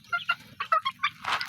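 Pet chickens and turkeys cluck during feeding on a backyard farm, with a quick run of short, close clucks and one louder squawk at the end and no talking.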